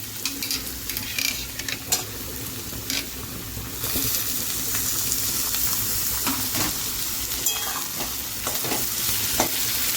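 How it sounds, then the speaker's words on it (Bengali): Chopped tomatoes stirred into golden-brown fried onions in a pan while cooking ghugni with kabuli chickpeas, steady sizzling and frying with scraping stirs and a few clinks of a spoon against the pan, close and continuous. "এবার এর মধ্যে আমরা টমেটো দিয়ে দেবো।"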